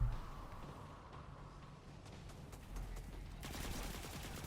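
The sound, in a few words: submachine gun firing, Destiny 2 video game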